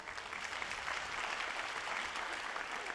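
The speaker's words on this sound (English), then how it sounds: "another round of applause" Steady, dense applause from a high school audience at an evening graduation celebration, continuous clapping filling the hall with no voices over it.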